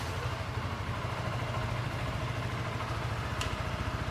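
Suzuki V-Strom 160 motorcycle, a 2026 model, idling in first gear while up on its stand, giving a steady low engine rumble throughout with no talk.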